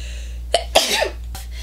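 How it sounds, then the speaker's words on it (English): A single short, sharp sneeze bursts out close by, preceded by a quick intake of breath, over a low steady hum. "I'm gonna sneeze."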